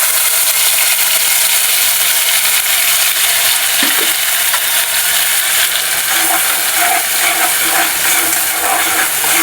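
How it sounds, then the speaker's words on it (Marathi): An onion, tomato, ginger and garlic paste fries in hot oil and butter in a pan, giving a loud, steady, close sizzle that crackles continuously throughout. "थोडंसं तेल टाकूया. आणि आता हे कांदा टोमॅटोची जी पेस्ट बनवलेली आहे ती, आलं लसूण आणि कांदा टोमॅटो"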